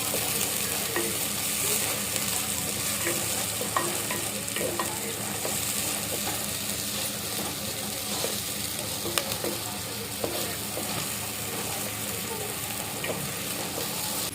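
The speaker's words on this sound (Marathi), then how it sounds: "कांदो परतून घेऊया" Onions sizzle steadily in hot oil while being stirred, with scattered scraping clicks throughout and no speech.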